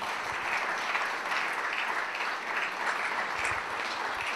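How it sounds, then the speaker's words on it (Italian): Audience applause for Father Tonino Melis, a missionary in Africa, at the Premio Navicella Sardegna 2011 ceremony: steady, dense clapping from a sizeable crowd, sustained evenly throughout without talk. "Un applauso per padre Tonino Melis."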